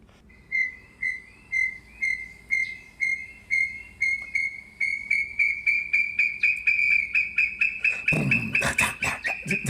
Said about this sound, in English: they whistle before they come out of the forest